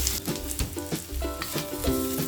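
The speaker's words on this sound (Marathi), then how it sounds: "चार पाच लसणीच्या पाकळ्या आणि अर्धा इंच आलं हे जरा परतून घ्यायचं आहे" Garlic cloves, ginger and onion sautéed in a pan for a Konkani-style prawn and kohlrabi curry, giving a steady close sizzle with the scrape and clatter of stirring throughout, no talking.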